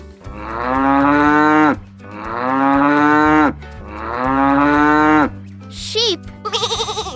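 A cow moos three times, each a long, loud, drawn-out low call with short pauses between, followed by a few brief, higher animal calls at the end.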